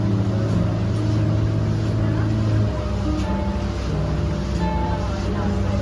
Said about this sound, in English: I haven't even gotten off the Friendship Boat.